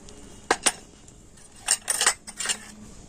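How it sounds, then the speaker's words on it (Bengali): A spoon clinks and scrapes against a bowl while red food colouring is stirred into a little water, with a few sharp taps and a short run of mixing strokes, close up and with no talk. "আর ফুড কালারটা জলের সাথে একটু মিশিয়ে নেব"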